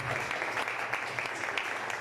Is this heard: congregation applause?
yes